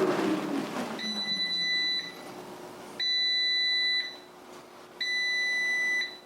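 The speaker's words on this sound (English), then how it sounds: "When your timer's done, it beeps at you." Cosori air fryer timer signalling that it has finished: three sustained electronic beeps about a second long, evenly spaced with short gaps between them, clear and close in a quiet room.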